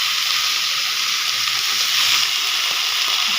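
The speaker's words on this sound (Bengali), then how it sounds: "শুকনো লঙ্কা, পাঁচফোড়ন দিয়েছি, দিয়ে যে মিক্স সবজিটা দেখিয়েছিলাম মিষ্টি কুমড়োর, ওইটা বসিয়ে দিচ্ছি" Pumpkin and mixed vegetables fry in oil with dried red chilies and panch phoron, giving a loud, steady, close sizzle that holds evenly throughout with no voices.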